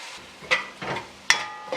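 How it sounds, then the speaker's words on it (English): Corn soup being stirred in a pot, with a few distinct scraping strokes against the pot set against a soft simmering sizzle, close and fairly loud, no voices. "Just give that a quick stir."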